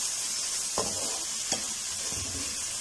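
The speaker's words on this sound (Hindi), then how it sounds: "ऑयल गर्म हो चुका है तो इसमें डालेंगे प्याज जो कि हमने बारीक चॉप किया हुआ है।" Finely chopped onion sizzles in hot cooking oil for egg macaroni, a steady bright hiss with a couple of sharp stirring knocks against the pan.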